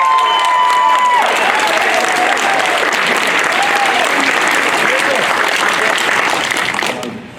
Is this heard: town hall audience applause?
yes